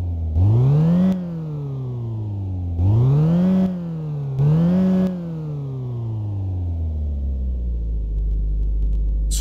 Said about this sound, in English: Let's rev it a little bit.